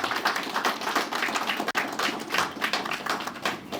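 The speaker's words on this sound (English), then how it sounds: "Give him another round of applause, please." Audience applause at a KFC Guyana goodwill school tournament launch, a dense run of many hands clapping that rises and dips steadily, with a brief drop midway, fairly close and with no talk.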